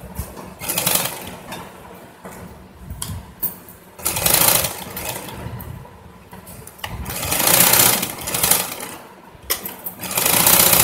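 A sewing machine stitches an umbrella skirt in repeated close, loud bursts of rapid mechanical whirring, separated by short pauses, with no talking.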